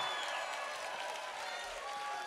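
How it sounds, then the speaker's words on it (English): Concert crowd applauding at a show at TLA, dense steady clapping and faint cheering, distant and soft throughout. "Give yourselves a round of applause"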